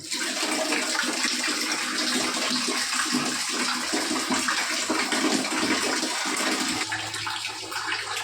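Hot water from an instant electric water heater gushes and splashes steadily into a bathroom basin, loud and close, easing slightly near the end.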